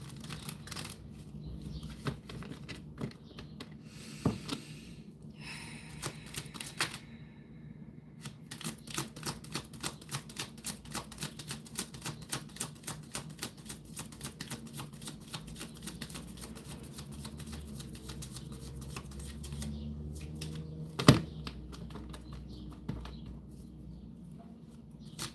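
Oracle cards are shuffled and pulled by hand, a quiet run of rapid, crisp riffling flutters with softer taps and slides between bursts, one sharp snap near the end, close and alone without talk.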